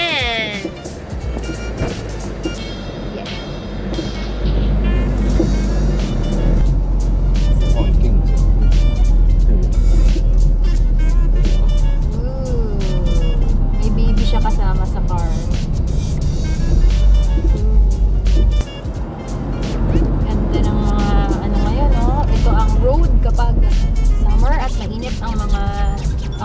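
Vehicles pass along a road near Dover Park in Canada, a continuous loud roadside rumble of cars and trucks swelling and fading as they go by, with people talking throughout.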